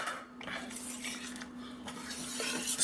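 A utensil scrapes and clinks against a pan as eggplant is stirred into pasta sauce, with repeated close scraping strokes and a faint sizzle underneath.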